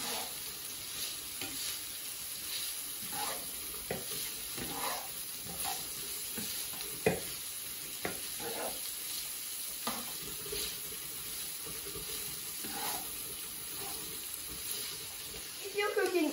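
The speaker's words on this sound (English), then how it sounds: "Hear that sizzles." Steady sizzle of onion frying in a pan, with crackling pops and occasional stirring clinks, continuous and fairly close, with no voices.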